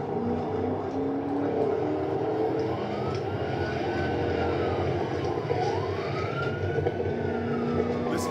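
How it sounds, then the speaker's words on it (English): A V6 Dodge Charger GT accelerating hard on a track, its transmission whine and engine drone rising and sweeping in pitch through gear changes, steady and moderately loud throughout. "Listen to that transmission."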